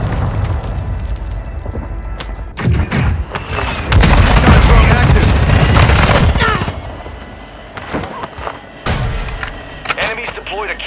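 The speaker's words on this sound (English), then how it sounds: "Taking effective fire!" Heavy bursts of rapid gunfire and booming explosions in Call of Duty: Modern Warfare II, loud and close, swelling into a dense barrage mid-way before breaking into scattered shots, with voices calling out over the combat.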